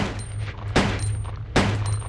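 Two sharp gunshots in the Resident Evil 2 video game ring out about a second apart, loud and close, over a low droning background hum.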